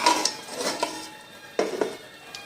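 Cooked pea pulao is dished out of a metal pot, with a serving utensil scraping and clinking against it in a few soft, separate bursts and no one talking.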